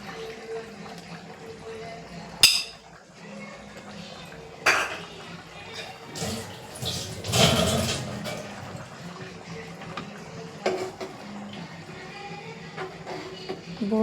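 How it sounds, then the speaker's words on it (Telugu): Tamarind juice poured into a pot of boti (goat tripe) curry, giving soft, intermittent splashing and trickling with a fuller burst midway, under low background noise and some voice. "ఇప్పుడు పోస్తున్న చింతపులుసు కొంచెం లైట్గా"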